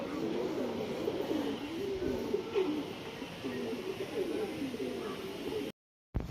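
Pigeons coo repeatedly in soft, rolling, overlapping calls close by, with a faint background hum and a short silent gap near the end.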